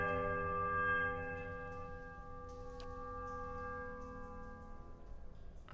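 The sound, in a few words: bells being rung in the video game Pillars of Eternity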